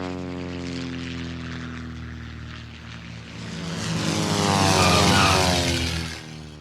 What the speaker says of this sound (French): Il y en a justement un qui s'apprête à atterrir.